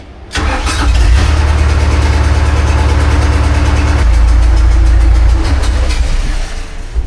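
An Argo amphibious ATV engine runs loud and close, with a steady rumbling idle that holds throughout before tailing off slightly near the end.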